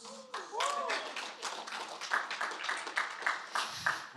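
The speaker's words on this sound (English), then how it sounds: "You came in clapping." A crowd claps at the closing ceremony of the Rebel Scum Con 2024 panel, with a patter of close, uneven claps mixed with voices and chatter.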